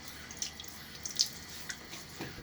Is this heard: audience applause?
no